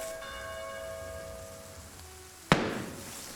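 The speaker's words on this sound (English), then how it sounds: "They're hitting the bell to warn everyone!" Gunfire strikes a bell as a warning in a World War II shooter, a sharp metallic clang with a ringing decay that follows a sustained bell-like tone, heard at middle distance with no voices.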